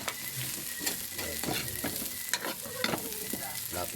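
Carrots being stir-fried for pancit bihon, a steady close sizzle with scraping stirs of a utensil against the pan recurring throughout, no voices.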